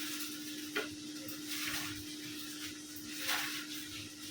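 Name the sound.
garlic and dried fish frying in a pan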